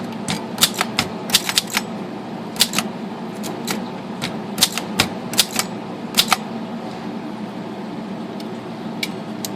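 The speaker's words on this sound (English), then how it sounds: "Alright, Phoenix Typewriter." A Phoenix typewriter clacks with sharp, irregular keystrokes in quick bursts, some strikes louder than others, over a faint mechanical hum with no talking.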